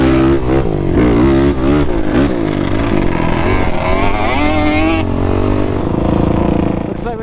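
Yamaha Banshee ATVs at the Little Sahara dunes, loud two-stroke engines revving and buzzing close by in rising and falling pitches, with people shouting and talking over the noise.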